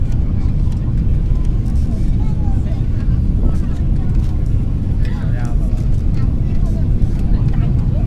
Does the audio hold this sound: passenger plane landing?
yes